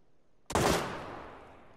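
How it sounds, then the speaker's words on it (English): Burst of gunfire in the PUBG battle royale game: a sudden loud shot at half a second followed by a long rolling echoing decay, no talking. "Someone shooting at me."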